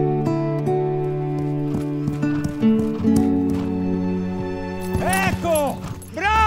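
A horse neighs in a high, wavering whinny near the end, after steady hoof clip-clops and stable sounds under a sustained musical tone, with brief human voices around.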